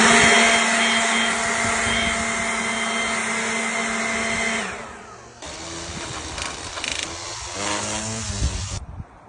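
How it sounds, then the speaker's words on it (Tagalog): A leaf blower runs loud and steady during backyard yardwork with flowering plants, its whine holding for several seconds before the tone shifts into a rougher, fluctuating roar, with no talking over it. "Then mag-blower din tayo."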